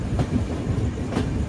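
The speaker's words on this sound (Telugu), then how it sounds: "మనకి అక్కడ ఆపోజిట్లో ఒక ట్రైన్ అయితే పోతుంది" A train rolls past on the opposite track at Secunderabad railway station after dark, a steady close rumble with rhythmic clickety-clack wheel beats and no voices.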